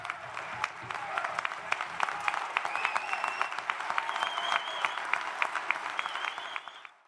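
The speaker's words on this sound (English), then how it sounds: "you can hear the clapping, but people are actually, that's a standing ovation that he's getting for that comment" Standing ovation at a union gathering: crowd clapping fills the room, with scattered cheers and whistles rising over the steady applause before it fades out.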